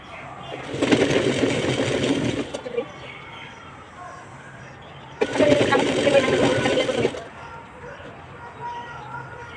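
A sewing machine stitches elastic onto the waistband of trousers in two bursts of rapid mechanical whirring, each about two seconds long. A quieter pause falls between the bursts, and faint background sound follows.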